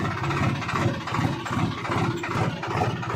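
A tractor engine idles steadily nearby, a continuous low, rough rumble with a faint rhythmic throb and no other sounds.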